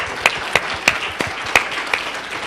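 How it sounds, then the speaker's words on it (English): A small audience claps for a prize winner at a live Visual Studio 2012 roadtrip show in Toronto: distinct, sharp individual claps spaced about a third of a second apart, fairly close, with no talk. "Big hand for Carlos."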